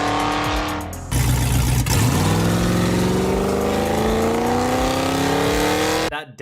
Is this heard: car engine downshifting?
yes